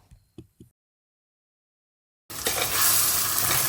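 Goan red masala powder, mixed with vinegar, is added to onions and fries in a pan, a loud steady sizzle with stirring that bursts in after near silence and a few soft knocks.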